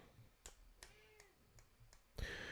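A cat gives a short, quiet meow amid faint clicks and taps in a quiet room, followed by a louder burst of noise at the end.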